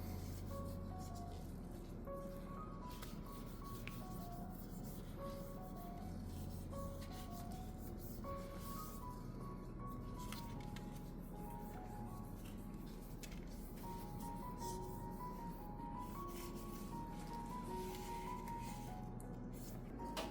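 Soft, continuous rubbing as orchid leaves are wiped with rice water, a gentle close-up swishing texture that runs steadily throughout with no talk.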